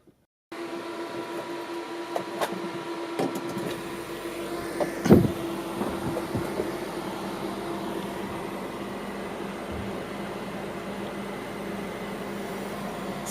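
A refrigeration system starts up and runs while drying refrigerant, a steady mechanical hum with a clear tonal drone, broken by a few clicks and one sharper clunk early on.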